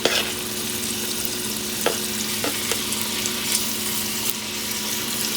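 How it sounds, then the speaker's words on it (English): Meat sears in a pot, giving a steady, close hiss and sizzle throughout, broken by a few faint clinks and stirring taps. "So I'm just going to sear this meat in 2 or 3 batches."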